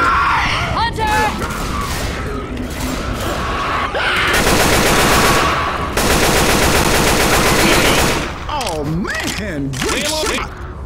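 Dense automatic gunfire from Left 4 Dead 2 fills most of the clip in loud, rapid bursts with short gaps between them, while players shout and talk over the shooting.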